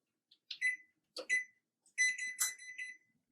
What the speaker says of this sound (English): And we'll put the timer on 65 minutes.